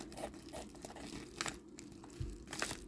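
Package wrapping around a Dooney & Bourke handbag crinkles and tears as it is cut open, a quiet close-up run of rustling and crunching with occasional sharper rips.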